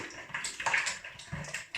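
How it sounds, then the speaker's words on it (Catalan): A spoon stirring a liquid mixture of anise, muscatel, lemon peel, vanilla and herb-infused water in a bowl, giving soft close sloshing and clinking for under two seconds. "Això ho remenem."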